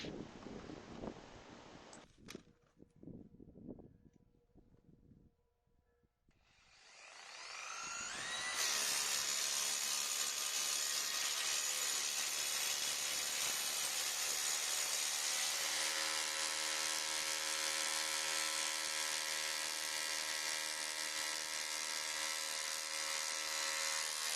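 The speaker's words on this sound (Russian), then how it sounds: "Пробую воплотить свою идею при помощи перфоратора." A rotary hammer drills into the ground in a freshly dug pit to drive a grounding rod, its loud, continuous broadband roar starting after a few seconds of quieter handling noise and holding steady to the end.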